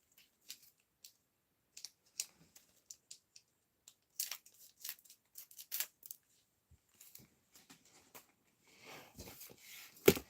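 Sharp, intermittent snips of scissors cutting through a crinkly sports card pack wrapper, close and quiet, with rustling of packaging between cuts.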